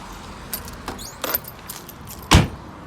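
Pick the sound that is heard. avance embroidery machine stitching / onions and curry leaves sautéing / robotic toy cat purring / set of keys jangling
set of keys jangling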